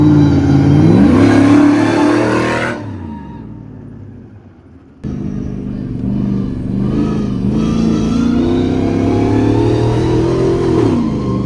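Lifted Hummer on 58-inch tires drives and accelerates, its engine revving loudly and rising in pitch, dipping briefly to a quieter lull before roaring back up to speed.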